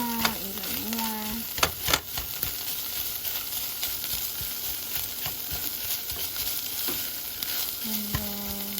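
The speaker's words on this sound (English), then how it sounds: "we're going to get our little spatula and break it down even more." A vegan, gluten-free taco filling is broken up with a spatula in a hot pan, giving steady close frying sizzle with scattered scraping and tapping strokes and no talking.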